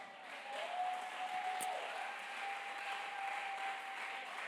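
Congregation applauding during a church service, a steady wash of clapping hands that holds throughout at moderate loudness, with a brief higher tone and a sharp click partway through.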